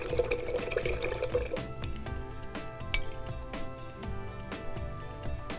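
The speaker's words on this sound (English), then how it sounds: "I'm gonna rinse my brush off really good." Paintbrush rinsed in a water container, with steady sloshing and clinking liquid sounds close by under quiet background music.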